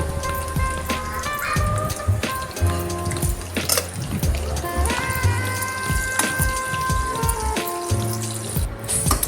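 Spices with curry leaves and turmeric crackle in hot oil for a chickpea tempering, a steady busy spatter of small pops and sputters throughout, fairly close.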